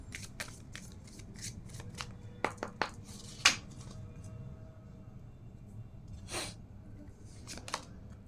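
Tarot cards are shuffled by hand in a quiet room, giving a series of crisp, close, irregular riffles and slaps spread across several seconds.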